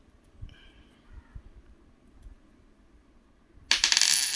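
Old Indian coins are handled quietly with a few soft clicks, then a sudden bright metallic clatter of coins at the end, close and distinct.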